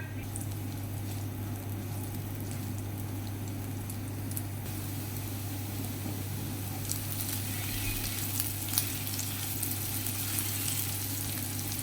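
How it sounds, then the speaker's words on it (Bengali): Onions fry gently in oil in a pan with a continuous soft sizzle and occasional pops under a steady low hum, close and even throughout, with no voices. "পেঁয়াজটা হালকা ভেজে নেওয়ার পর"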